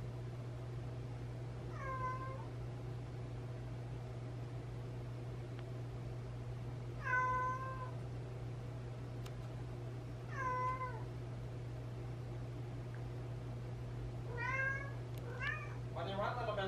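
A pet cat whines and meows indoors, four or five separate drawn-out cries spaced a few seconds apart over a steady low hum, fairly close, with the last calls coming in quicker succession.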